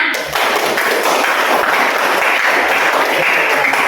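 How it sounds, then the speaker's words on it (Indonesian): Students in a classroom break into brisk, loud group clapping that starts suddenly and continues steadily, close and lively with a few thumps mixed in. "tepuk tangan untuk semuanya."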